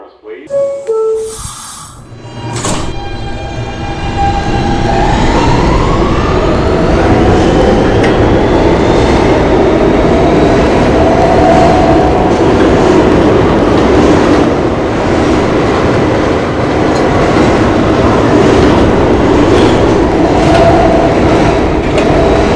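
A New York City subway E train runs with a loud, continuous rumble and rattling wheel noise. A door chime and short bursts of sound come first, then the train pulls away and the roar builds and holds.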